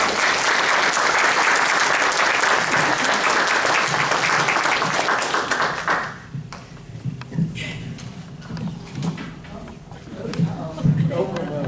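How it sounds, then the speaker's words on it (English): An audience claps warmly to welcome a veteran peace activist. The loud, continuous applause lasts about six seconds, then breaks off abruptly into quieter room sounds and someone talking. "So let's have a warm round of applause for Gerry Condon."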